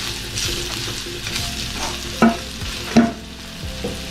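Turmeric being stirred into a chivda mixture in a pan, a steady sizzling hiss with two sharper scraping knocks of the spoon partway through, close and fairly loud, no talk.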